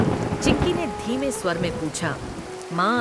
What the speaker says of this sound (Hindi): बारिश लगातार हो रही थी।